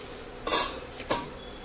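A metal lid set onto a pan of cooking ridge gourd, two short clattering contacts about half a second apart over a soft background hiss.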